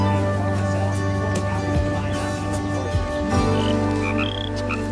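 Poison frogs in a jungle-like indoor setting, a steady chorus of croaks and trilling calls with a few brief higher chirps, close and continuous, with no talk.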